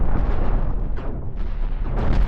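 Spaceship cannons firing in the Cosmoteer space combat game, a dense rumbling barrage of booms rolling continuously through the short stretch, loud and close.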